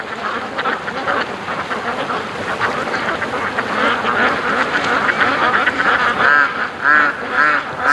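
Ducks quack continuously at a lake, a loud, dense chorus of overlapping calls from several birds, with a few honking notes mixed in and no break throughout.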